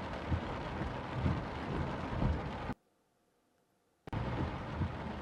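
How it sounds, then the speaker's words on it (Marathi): Heavy monsoon rain pours down in Pune, a dense steady roaring hiss that cuts off abruptly for over a second mid-way, then resumes just as loud. "पुण्यात 10 दिवसाच्या विश्रांतीनंतर मुसळधार पाऊस।"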